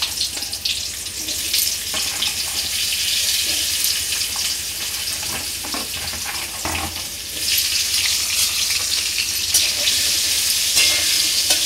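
Potatoes frying in oil seasoned with salt and turmeric in a karahi, a loud continuous sizzle close up, with occasional stirring clatter and brief bursts.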